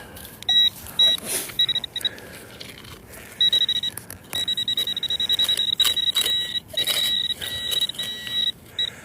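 A metal detector gives repeated bright, steady beeping tones over a buried penny at an abandoned mink ranch, sounding in short and longer bursts against faint outdoor rustling.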